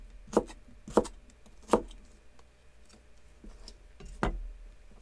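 Knife cutting celery into small sticks on a board, heard as four distinct crisp chops with pauses between, close and clear over faint background noise.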